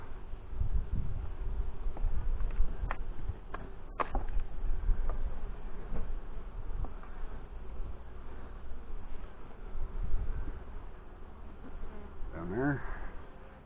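Honey bees buzz steadily in a swarm hive, a close, continuous hum under brief soft human speech and a few clicks and handling noises near the end.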